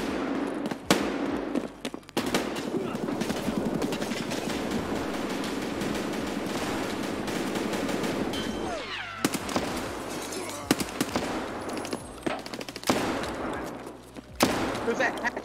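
Bursts of sharp gunfire in the shooter Escape From Tarkov, a steady stream of cracking shots with a few louder, closer reports and denser volleys midway.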